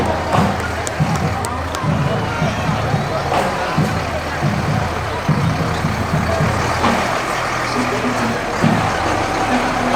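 A Hamilton Township fire department truck rolls along a festival parade route, its engine rumbling under crowd noise while an announcer talks over a public address system.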